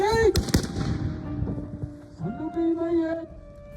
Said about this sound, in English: this will be the last shot of the rotating volley